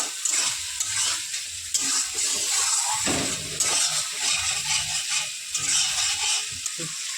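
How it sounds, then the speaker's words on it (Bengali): Steady frying sizzle of spice paste in a pan, with occasional scraping stirs, fairly loud and continuous, no talking. "মশলাটাকে একদম লাল লাল করে কষিয়ে নেব"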